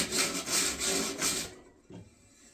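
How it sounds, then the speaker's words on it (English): Paste wax rubbed by hand onto the metal table of a miter saw, a steady rhythmic rubbing for about a second and a half, close and clear, then a quieter pause with one brief scuff. "I'm just going to put some paste wax on it"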